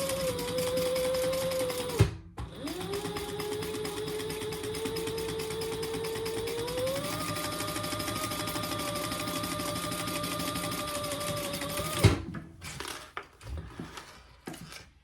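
A sewing machine top stitches down the seam of a clutch organizer wallet, running in a steady continuous whir that shifts pitch slightly midway. Brief pauses break it near the start and the end.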